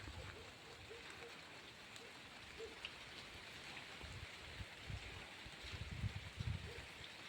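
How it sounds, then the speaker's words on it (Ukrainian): Quiet, steady patter of light rain falling outdoors from a thundery cloud, a soft continuous hiss with occasional slightly louder drops. "надійшла в нас хмарка така, погримує і пускається дощик"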